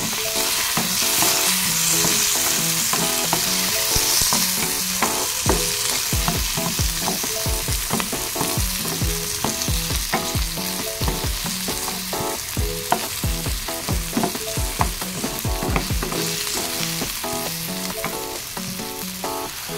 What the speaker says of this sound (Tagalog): Gisa-gisa lang natin ang ating sibuyas para mabango. Pwede na rin natin isunod ang ating kamatis.